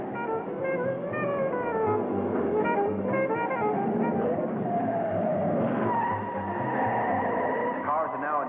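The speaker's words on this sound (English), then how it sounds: "They've all shifted down, and they're revving very high in order to get maximum power around these very sharp curves." Hot rods race around very sharp curves on a steep climbing section of a road course, engines revving high in low gear, a steady loud roar with tire squeal, heard under an excited commentator's voice throughout.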